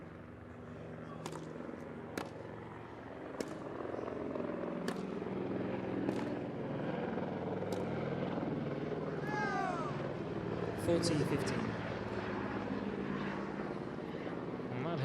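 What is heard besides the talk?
low-flying helicopter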